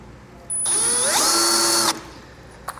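A power drill drilling pilot holes for a mini LED side marker light whirs up to speed and runs for about a second and a half before stopping, close and loud.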